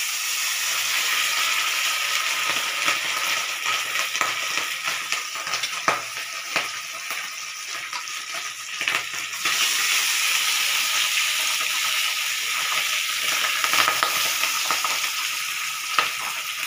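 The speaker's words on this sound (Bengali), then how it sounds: "কালো জিরাগুলো পুড়ে গেলে মাছটা আমি ছাড়বো" Pabda fish with black cumin seeds frying in hot oil, a steady broadband sizzle lasting throughout with occasional sharper crackles and pops, fairly close and with no talking.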